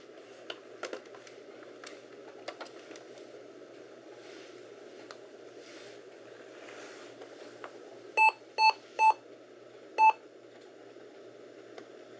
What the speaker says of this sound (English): Beeping codes. Normally, that means no memory or wrong kind of memory.